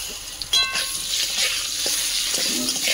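Mango pieces fry in hot oil with whole dried chillies and five-spice tempering, a steady close sizzle with stirring clatter and a sharp burst near the start, no voices.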